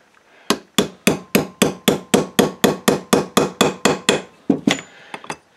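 Steady, evenly spaced metal hammer blows drive a drift against a Kohler Command engine oil pump part, about fifteen sharp close strikes, then a few lighter irregular taps.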